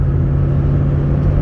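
A Rover P5B accelerates hard on the road, and from inside the car its engine gives a loud, steady low rumble with no one talking over it.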